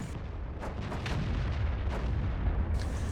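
Tank cannon fire in World of Tanks on the Steppes map, with a T71 and other tanks trading shots: a dense run of loud, overlapping booms and rumbles over a constant low battle roar, with no voices.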